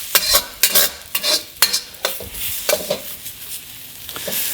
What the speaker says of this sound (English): Give these a toss, cook off those eggs.